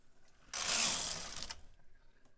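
A knitting machine carriage sweeps across a row of a sock in one continuous loud swish lasting about a second, with mechanical rattle, then fades to quieter clicks.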